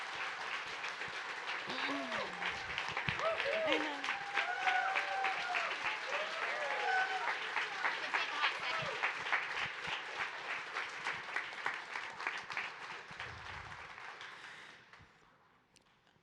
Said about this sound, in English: Let's give the orchestra a round of applause.